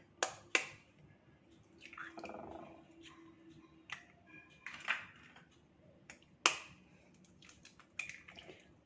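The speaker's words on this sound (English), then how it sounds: "I love the sound of cracking egg." Eggs cracked one after another into a bowl while a coconut-flour frittata is made, about seven of them, giving sharp close taps and snaps with soft wet drips between in an otherwise quiet kitchen.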